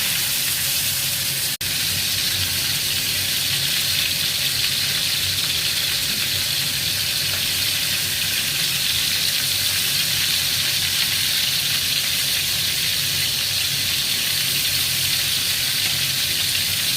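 Salmon fish fillets fry in a pan with a loud, steady sizzle that runs unbroken throughout, close and without voices.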